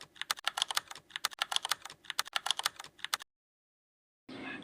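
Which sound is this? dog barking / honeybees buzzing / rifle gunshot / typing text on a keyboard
typing text on a keyboard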